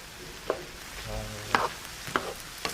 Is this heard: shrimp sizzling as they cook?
yes